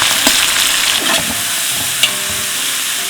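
Urad dal, green chillies and onions fry in a large pot while cooking for about a hundred people, producing a loud, steady sizzle punctuated by scraping stirs and a sharp clank.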